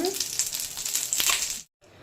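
Bread slices frying in ghee in a pan, a steady bright sizzle running continuously at close range before cutting off abruptly near the end.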